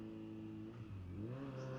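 A Kawasaki Z900 motorcycle engine blips and revs during a downshift, a steady mid-pitched drone rising in pitch after a brief dip, heard from the rider's position.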